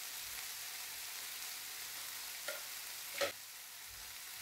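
Squid roast frying with spices and curry leaves, a faint, even hiss of oil throughout with one or two soft clicks near the end.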